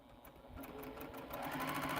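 A home sewing machine runs steadily at close range while finishing spools in a quilting session, its motor hum picking up speed partway through, with no talk over it.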